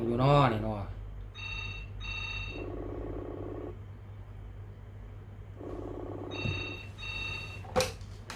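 A telephone ringing tone repeats in steady rhythmic bursts through an outgoing phone call, clear and moderately loud, with a brief voice at the start and a sharp click near the end.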